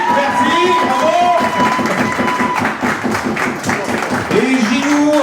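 A concert crowd at a farewell tour show claps steadily and cheers, a dense, loud wash of applause with shouts and whistles mixed in throughout.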